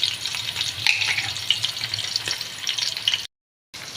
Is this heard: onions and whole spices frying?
yes